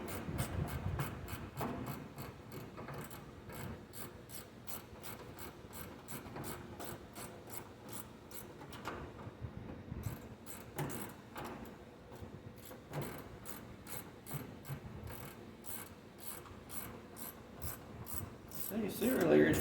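Ratchet wrench tightening the heater box bolts under the dash of a 1948 Chevy truck, a steady fast clicking pawl repeating close and clear for nearly twenty seconds with a brief pause midway.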